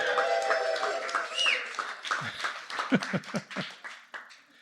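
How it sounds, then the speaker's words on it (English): Scattered clapping from a talk audience, a few hands at first and then a handful of louder distinct claps that thin out and fade near the end. "Give yourself a round of applause"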